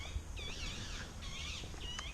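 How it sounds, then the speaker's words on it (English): A bird calls in short warbling whistled phrases, several bursts repeated over a low background hum, fairly faint and with no voices. "Sounds like we're in a jungle. What kind of bird is that?"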